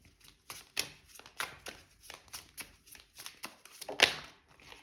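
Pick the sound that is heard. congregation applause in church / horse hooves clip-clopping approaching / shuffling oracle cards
shuffling oracle cards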